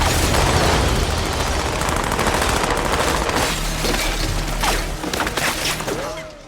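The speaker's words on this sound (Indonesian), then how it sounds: "mereka bertiga diberondong dengan tembakan oleh anak buah Hansen yang sudah berada di luar rumah Amanda" Gunfire in a film scene as henchmen spray a house with shots from outside, a dense loud continuous barrage with booms and crackling bursts filling the whole stretch, no talk over it.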